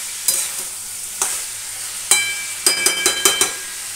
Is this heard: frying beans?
yes